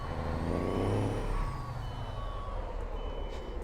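A truck engine in Euro Truck Simulator, a low rumbling drone under a hiss of air and pitched tonal whines that slide downward, heard alone at close range.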